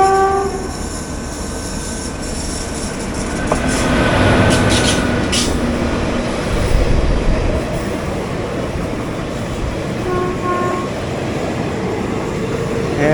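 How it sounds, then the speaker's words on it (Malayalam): The Eranad Express passes on the opposite line while a train waits at Vallathol Nagar station, a long steady rumble and rush of wagons that swells and lingers, with a horn sounding near the start. "ഓപ്പോസിറ്റ് ലൈനിൽ ഒരു വാപ്ഫോർ ഹൗളിൽ ട്രെയിൻ വരുന്നുണ്ട്"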